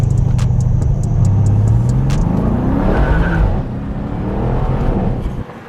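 Stock-exhaust Mercedes AMG accelerating hard, engine note climbing loud and close for several seconds, then easing off as the rumble fades slightly.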